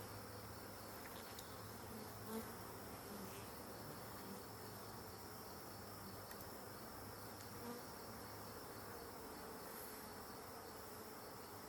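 Honeybees buzz steadily as a frame is gently pulled from the hive during an inspection, a dense continuous drone of many bees with a few closer flyby swells, faint overall and without talk.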